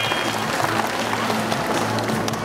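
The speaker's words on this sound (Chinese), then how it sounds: "也给蓝队一次掌声鼓励。" A crowd claps at a dolphin show at Hualien Ocean Park, a dense, steady patter of hands from a large audience sustained throughout.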